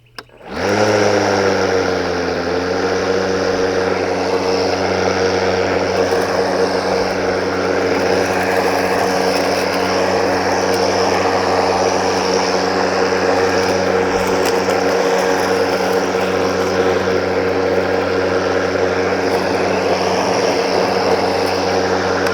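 Milwaukee M18 Fuel battery-powered lawn mower starts up and runs steadily on a hillside, a loud, even electric motor and blade whine with a constant hum and no speech.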